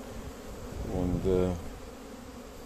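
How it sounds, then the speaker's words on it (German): Honey bees fly around a hive in German countryside, a buzzing hum that swells as one passes close by the microphone in the middle of the clip, with someone speaking a word beneath it. "wenn die Bienen ein paar Stunden täglich fliegen könnten, wie jetzt zum Beispiel"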